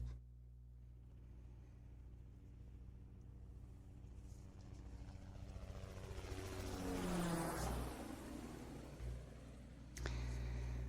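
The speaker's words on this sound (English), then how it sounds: "the choppers are coming" A helicopter sound effect: rotor thumping and engine whine build as it draws closer, peak loudly overhead with a sweeping Doppler shift, then fade away before another burst at the end.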